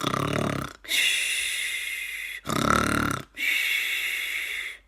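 A voice imitates loud snoring, with rough drawn-out snores alternating with raspy whistling breaths in a slow repeating rhythm, close and prominent.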